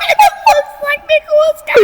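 A Philippine eagle gives a series of loud, close, tonal calls, each a short harmonic whistle in an uneven rhythm, with brief gaps between them.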